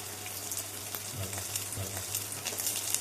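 Small onions (shallots) sauté in a pan for green chilli chicken kurma, giving a steady close sizzle with light crackles and occasional stirring scrapes, over a low background hum.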